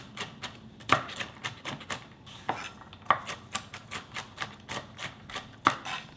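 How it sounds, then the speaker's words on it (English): Roasted nuts for carrot cake muffins chopped with a knife on a cutting board, a steady run of quick, close, crisp knocks with a few heavier strikes mixed in. "Put this on my cutting board,"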